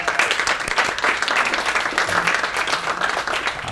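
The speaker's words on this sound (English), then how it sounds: "Give him a round of applause." An audience at a talk on psychedelics in spirituality and religion gives a round of applause, dense continuous clapping from a crowd of moderate size, close and lively throughout.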